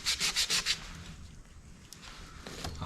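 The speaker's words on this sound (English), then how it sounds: "I'm going to rough up this with a little sandpaper where it makes contact here" Sandpaper roughing up a metal contact point on a Suzuki DT250A outboard that won't start consistently: several quick, close, scratchy strokes at the start, then quieter intermittent rubbing, with no talking.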